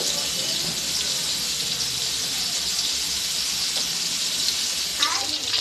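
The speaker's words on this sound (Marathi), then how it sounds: "आता कोळंबी व्यवस्थित फ्राय झालेली आहे एका बाजूने" Steady bright sizzling of prawns frying in a hot pan, constant and close, with a faint clink near the end.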